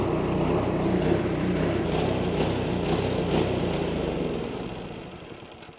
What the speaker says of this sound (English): park your snowblower outside in the driveway. Start it up and let it run. Let it run until it dies.